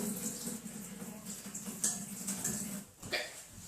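Water runs from a kitchen sink tap into a measuring cup, a close splashing rush that shifts in pitch and level as the cup fills, with brief clatters near the end.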